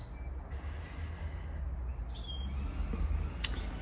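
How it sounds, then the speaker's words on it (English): Faint, thin bird chirps come and go over a low rumbling background, a few sparse calls scattered throughout. "listening to the birds"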